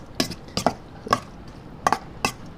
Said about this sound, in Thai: เราคนมาได้สักระดับหนึ่งนะครับ